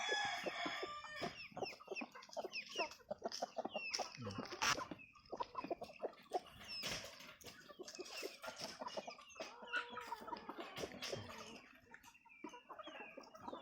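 Two-month-old Rhode Island Red chickens on a farm cluck busily and continuously, close by, with overlapping calls and an occasional crow among the flock.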